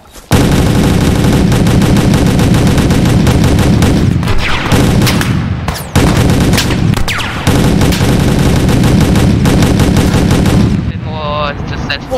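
Dense, loud automatic gunfire in a military video game, with sustained rapid bursts close by, brief pauses, and a booming report, continuing almost nonstop.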